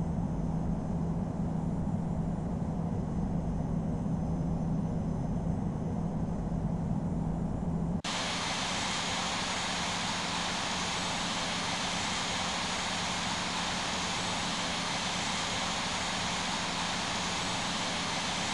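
Airbus A321 jet engines in the Infinite Flight simulator during a takeoff roll at London Heathrow, a steady loud roar that shifts abruptly partway through to a broader, brighter rushing engine noise with no talk.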